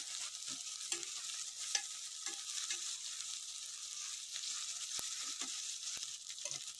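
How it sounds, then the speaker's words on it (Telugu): Masala paste for Andhra fish curry (chepala pulusu) fries in a pan with a soft, steady sizzle and repeated quiet stirring scrapes, close by and fairly faint, with no speech. "పేస్ట్ కూడా ఫ్రై అయితే మంచి టేస్ట్ వస్తుంది"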